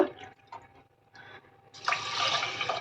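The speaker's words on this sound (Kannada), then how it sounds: "ಇವಾಗ ನೀರು ಹಾಕ್ತೀನಿ ಇದರಲ್ಲಿ ಎರಡೂವರೆ ಗ್ಲಾಸ್ ನೀರು ಹಾಕ್ತಾಯಿದ್ದೀನಿ" Water splashes and gurgles into a pressure cooker of red rice after a few quiet knocks, pouring loudly and close for the final second.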